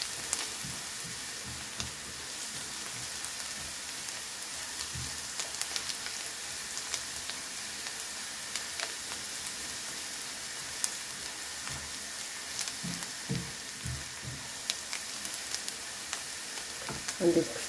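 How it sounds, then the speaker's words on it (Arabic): Onion sizzles in a hot pan while a kofta dish is cooked, a continuous soft crackling fry with occasional stirring scrapes and taps, close and steady. "البصلة هي اللي تتشحر"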